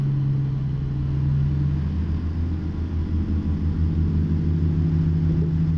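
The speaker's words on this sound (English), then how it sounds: "this beastly motor set off car alarms" A heavy truck engine in American Truck Simulator rumbles steadily and loudly for several seconds, a deep continuous drone with slight pulsing and no voices.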